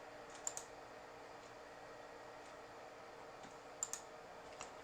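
Faint mouse clicks on an Install button, a quick pair of soft clicks near the start and another pair near the end, over quiet room hiss.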